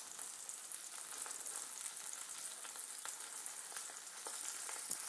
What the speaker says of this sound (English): now the burger's in there cooking very nicely. You can hear it probably sizzling